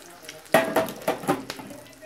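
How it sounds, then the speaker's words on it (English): Scrambled eggs being stirred in a pan over low heat: a handful of short, soft scraping strokes with a light sizzle, close by and fairly quiet. "just a little stir on low heat"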